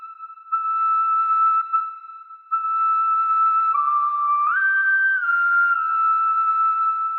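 A professional whistler holds long, pure whistled tones, mostly one steady pitch with brief breaks, then a step up and back down near the end, heard clearly and alone.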